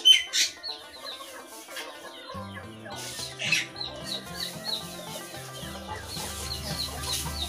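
A small caged songbird chirps and trills in short bursts over a soft background of low, steady music.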